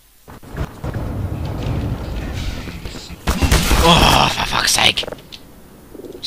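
Enemy gunfire in the Black Mesa Source video game: scattered shots crackle through the background, then a dense, loud burst of rapid firing and impacts fills the middle stretch before easing off.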